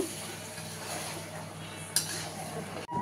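Ginger and white mustard paste is stirred and fried in a pan for shukto, giving a steady low sizzle with faint scraping. One brief clink near the end.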